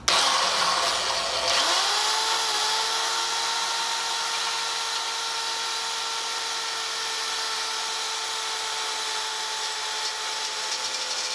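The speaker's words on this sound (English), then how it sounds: "You're also drilling into one of your machines" Power drill boring into the sheet-metal belt guard of a machine, a steady high motor whine that spins up after a brief start and holds level, loud and close with no talking.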